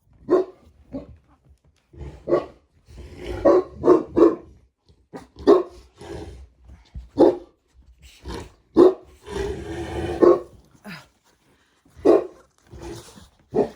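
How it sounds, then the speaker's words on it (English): Dogs bark in irregular bursts, several sharp barks close by, some overlapping, with short quiet gaps between. "they're having a barking fit"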